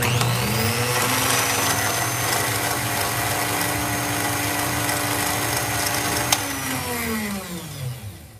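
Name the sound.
electric lift motor running with gear reduction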